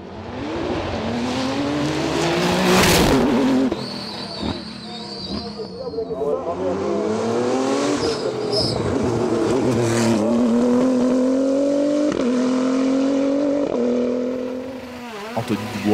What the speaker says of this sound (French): Anthony Dubois, auteur du meilleur temps dans la 3e montée de course, prend la 3e place sur son Alpine A110 Evo